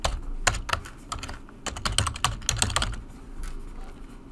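Keys tapped on a computer keyboard while an email address is entered during an online school-board registration, a close, uneven run of quick clicks in short bursts with brief pauses, no voices.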